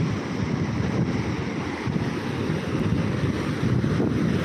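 Flooded river water rushes and churns in a steady, loud roar, with wind buffeting the microphone and no voices.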